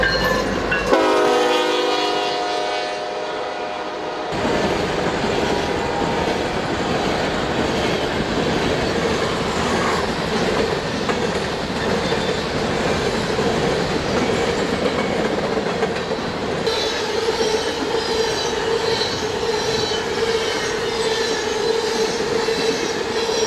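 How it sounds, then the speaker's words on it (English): A Union Pacific SD70ACe locomotive leads an empty Labadie coal train past Prospect Avenue in central Missouri: a loud horn blast opens, then steady close rumble and clattering wagons roll by continuously with occasional wheel squeal. "an SD-70 Ace leads an empty Labadie coal train"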